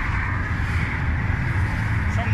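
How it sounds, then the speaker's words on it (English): Steady, loud rumble of heavy highway traffic streaming past close by at the roadside of a very busy highway during a tire change, continuous with no breaks. "Traffic that's going by. Yeah, we got lots of traffic."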